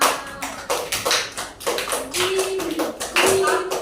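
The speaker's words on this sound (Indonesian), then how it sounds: "Tepuk tangan dong untuk kita semua." Schoolchildren in a classroom clap together in uneven, bunched rounds of near, sharp handclaps, with children's voices calling out between them.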